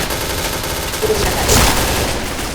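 Rapid gunfire in the shooter game Point Blank, dense bursts of shots running continuously at close range with one louder blast near the middle, with no speech over it.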